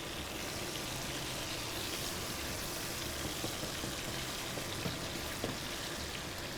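Fish sizzling in a pan on a cooking show, where the fish has stuck to the pan; a steady, dense hiss and crackle of hot oil fills the clip without a break, with no talk over it.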